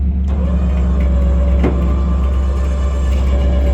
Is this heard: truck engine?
yes